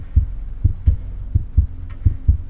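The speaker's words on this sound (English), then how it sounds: "It was the beating of the old man's heart." A beating human heart, low muffled thumps in paired lub-dub pulses repeating at a quick steady rhythm, close and dull with a faint hum beneath.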